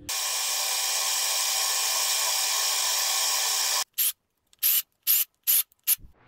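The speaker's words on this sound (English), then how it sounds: "We're gonna have to touch this up. With a power tool." A power tool, likely a grinder or sander, touches up a clamp ring on an L405 Range Rover. A long, loud, continuous hissing whir runs close up, then breaks into five short bursts separated by silence.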